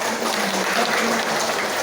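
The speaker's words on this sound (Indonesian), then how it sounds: "Beri tepuk tangan lagi untuk" An audience at a vocational high school graduation ceremony applauds, a dense, continuous patter of many hands clapping at an even level for a short burst.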